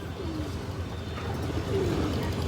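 A pair of Bagha pigeons coo softly nearby, with a couple of low, rolling calls rising over a quiet background hum.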